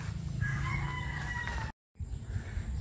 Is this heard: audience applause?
no